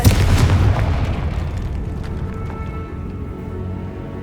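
A Confringo blasting curse explodes in Hogwarts Legacy with a loud booming burst at the start that fades into a long rumbling tail, alone with no talk.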